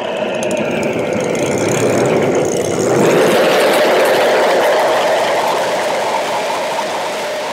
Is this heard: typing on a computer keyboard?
no